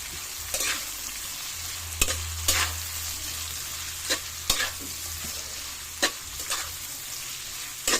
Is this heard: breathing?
no